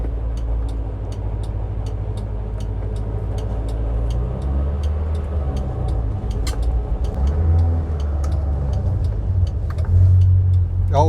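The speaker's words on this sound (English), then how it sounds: "The engine is a bit raucous" Mazda 1000 car engine pulling under acceleration from inside the cabin, a rough, raucous mid-pitched drone with steady ticking and rising revs throughout.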